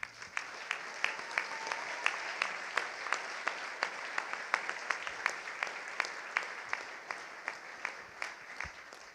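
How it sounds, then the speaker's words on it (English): Steady applause from a crowd, a dense wash of clapping with a few sharper claps standing out, sustained evenly throughout. "Now we can applaud."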